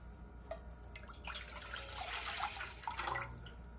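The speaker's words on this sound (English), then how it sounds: "In a pan, add 4 cups of water, that is approximately 600 ml." Four cups of water are poured into a cooking pan for instant corn soup, a soft continuous splashing and trickling that swells in the middle and stays fairly quiet, with no voices.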